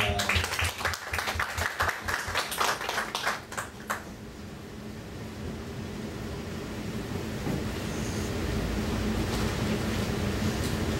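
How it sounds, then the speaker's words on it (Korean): A church congregation welcomes a speaker at a Sunday service with brisk, fairly close applause lasting about four seconds, then the clapping stops and a low, steady rumbling room noise carries on alone. "박수로 한번 환영하겠습니다"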